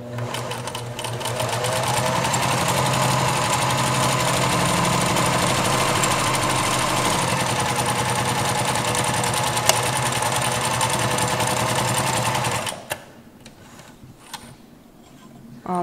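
A domestic sewing machine runs continuously and close for about twelve seconds, its needle hopping over a pin mid-seam with a faint tick, then stops and fabric rustles briefly.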